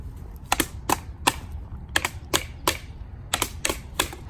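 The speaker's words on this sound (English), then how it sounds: "Bigfoot wood knocking is done in sets of 3" Sharp wooden knocks, as in Bigfoot wood knocking, sounding in spaced groups of three, moderately close and crisp against a quiet outdoor background, with no talking.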